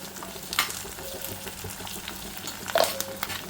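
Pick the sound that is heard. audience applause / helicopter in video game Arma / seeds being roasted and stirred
seeds being roasted and stirred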